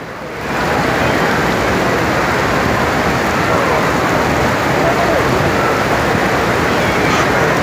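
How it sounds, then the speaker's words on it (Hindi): Heavy torrential rain, mixed with hail, pours at the Prophet's Mosque in Medina, a dense, loud, continuous hiss that swells in within the first half second and holds steady throughout. "फुल मूसलाधार बारिश हो रही"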